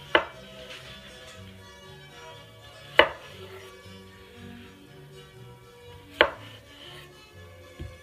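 A knife cuts a potato into cubes on a cutting board, giving three crisp, sharp chops spaced a few seconds apart. Each chop rings out close over a low, faint background hum, with no talking.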